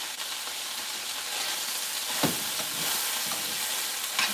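Jalapenos, green chili, tomatoes and onions sizzling in a hot pan, a steady close crackle and hiss with occasional stirring scrapes.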